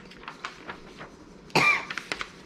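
One sharp, loud cough bursts out near the end amid quieter scattered indoor sounds, followed by a few softer clicks and breaths.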